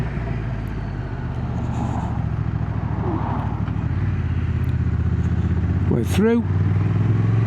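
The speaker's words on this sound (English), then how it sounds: "that gear change from first to second is so much smoother" A 2025 Honda NT1100 DCT motorcycle ridden two-up pulls away from a stop, its steady engine drone rising and shifting up through the gears, loud and close with wind noise, while a rider talks.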